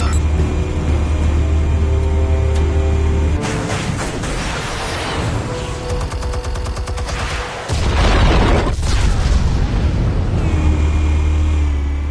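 Explosives going off in the Batman Telltale video game, a loud rumbling blast that swells, drops away briefly, then hits again with a heavy booming roar, close and alone without any talking.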